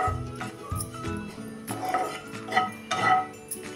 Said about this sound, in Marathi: हे आता पटपट हलवून भाजून घ्या, नाहीतर हा तापलेल्या पॅनमध्ये हे लगेचच करपू शकतं.